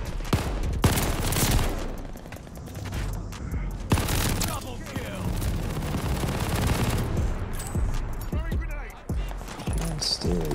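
Rapid, sustained MG42 machine gun fire in CoD Vanguard, dense bursts rattling near and loud through most of the stretch, with players talking over the shooting.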